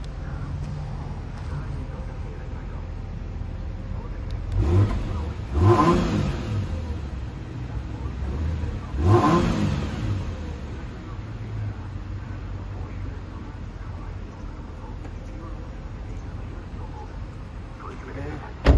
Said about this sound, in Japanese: 吹かしてみます。